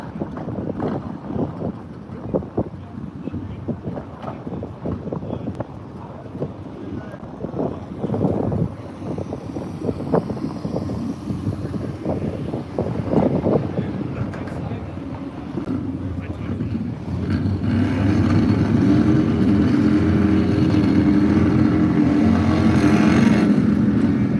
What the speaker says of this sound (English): Nice burnouts, huh? All right, street bagger bikes are pulling it into the beams now.